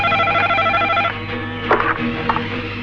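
A telephone rings in a pulsing electronic trill for about a second, then stops. Faint clicks and handling noises follow, as if the receiver is being picked up.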